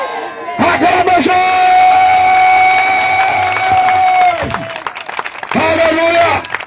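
A church congregation erupts in loud, sustained cheering and shouted acclamation, voices whooping and crying out together in a crowded hall, briefly dipping and then surging again near the end.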